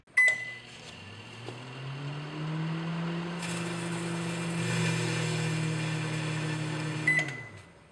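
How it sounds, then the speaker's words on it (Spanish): Running microwave oven heating grape halves until they spark plasma: a beep, then a steady low hum and fan drone that rises slightly in pitch, with a crackling surge of sparking midway and another beep at the end. "Consta de agarrar una uva, cortarla a la mitad, dejarle un hilito de piel abajo y prender el microondas."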